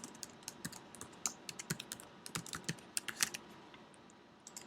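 Quiet, close clatter of a computer keyboard as a password is typed, with irregular keystrokes in quick clusters and short pauses, no voices.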